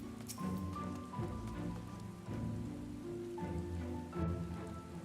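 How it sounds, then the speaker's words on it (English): Steady rainfall in the Final Fantasy XIV game world, a continuous soft hiss of drops layered over background game music with sustained tones, moderately loud throughout. "it's raining."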